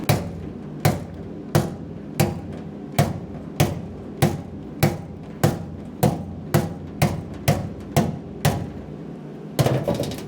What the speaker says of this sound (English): I'm gonna go ahead and hit this with the ball peen and see what happens here